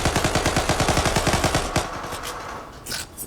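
Rapid automatic gunfire from the Zula online shooter game rattles off in a fast, steady burst for about a second and a half, then gives way to scattered fainter shots and game noise, loud and close.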